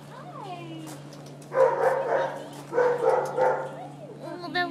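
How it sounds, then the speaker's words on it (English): Puppies at an animal shelter let out a couple of short clusters of yappy barks and yips, close by, between people's voices. "there's some more puppies."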